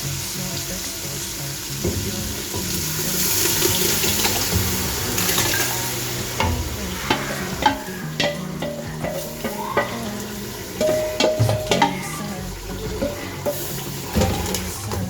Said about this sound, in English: You stir it and allow it to dry off the water.